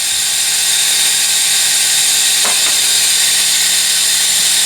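An air assist compressor for an Atomstack laser engraver runs continuously, a loud, close, steady high hiss and hum, unchanging throughout apart from a faint brief click.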